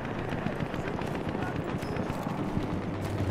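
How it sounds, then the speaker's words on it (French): Horse hooves clip-clop in the Battlefield 1 video game, a quick, busy patter half-buried in a dense battle mix with distant gunfire, while a voice talks over it. "il y a un mec avec un cheval qui arrive"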